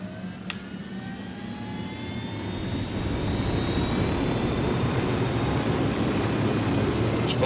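An aircraft engine in the video game Ghost Recon Wildlands, a steady broadband roar that swells gradually louder and holds, with a thin high whine on top and no talking.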